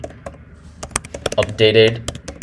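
Rapid clicking of computer keyboard keys at a terminal, with a short burst of brief speech-like sound partway through; the taps are close and fairly loud.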